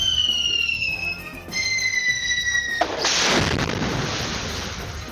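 A sharp firecracker blast in Malolos, Bulacan bursts in after a few seconds of steady tones, followed by a loud, spreading rumble that slowly fades.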